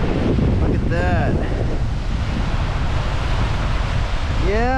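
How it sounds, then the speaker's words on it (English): Strong wind buffets the microphone on Ottawa Beach, a lake shore, on a cool, blustery late-May morning, with waves rolling in underneath as a steady, loud roar. Brief faint voice-like tones rise over it. "It's about 60 degrees and it's blowing. And the waves are coming in."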